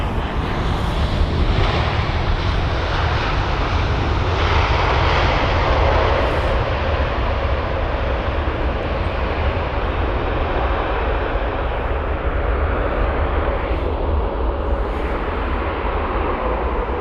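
An American Airlines Boeing 787-9 Dreamliner lands at London Heathrow with a loud, sustained jet engine roar that holds steady throughout, thick with rumble and wind buffeting.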